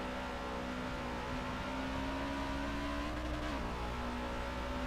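Race cars in a racing game on the Daytona road course, their engines a faint, steady whining drone with a sustained tone that dips briefly, heard quietly in the background.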